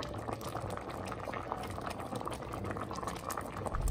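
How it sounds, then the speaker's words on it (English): Thai Isan bamboo shoot soup thickened with sticky rice powder boiling in a pot, a soft, steady bubbling and gurgling that runs continuously and close, with no voices. "Continue to cook for 5 minutes until the soup thickens."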